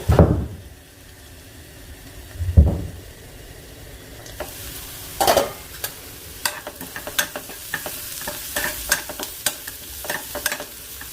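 Onion frying in a pan during breakfast cooking, with a few loud stirring thumps early on followed by a steady soft sizzle and scattered clicks and scrapes of utensil on pan.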